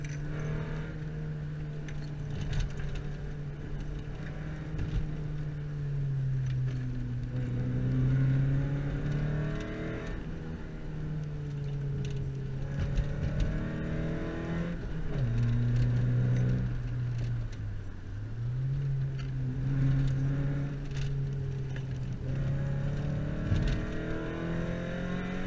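A VW Golf 3 GTi 16v engine while driving, a steady inside-the-car drone whose pitch climbs through each gear and drops at the shifts, repeating across the run with no talk.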